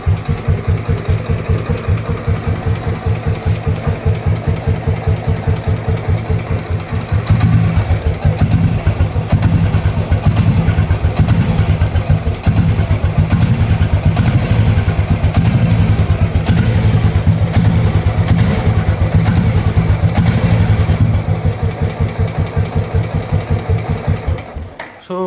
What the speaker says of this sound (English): so bike is started normally as always in a single kick